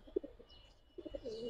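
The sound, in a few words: Giribaz pigeon cooing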